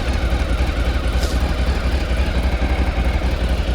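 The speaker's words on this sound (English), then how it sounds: "Let's just have you hear this. Make sure I'll fire both bikes up for you." A Bimota Tesi 3D motorcycle with 3,600 miles idles steadily after starting, its low, even engine rumble continuous and close throughout, with no talk.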